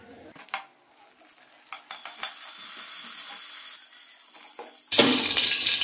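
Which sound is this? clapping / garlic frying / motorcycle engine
garlic frying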